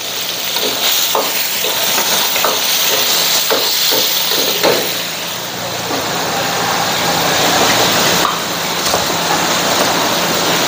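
Chicken liver frying in a pan as a handful of lime leaves goes in, giving a loud close hiss and sizzle with scattered crackles and stirring clinks, a brief lull midway, then a renewed surge of frying.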